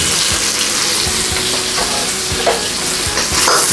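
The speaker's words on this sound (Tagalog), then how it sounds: "Sutay lang po natin ang ating onion ng 1 minute" Onion sautés in melted butter in a pan, a close, continuous sizzle broken by scraping stirs, with no talk.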